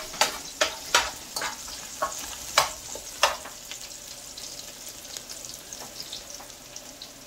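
Bay leaf and two cinnamon sticks frying in oil in a pot, a steady sizzle broken by a run of sharp crackles and pops that thin out over time.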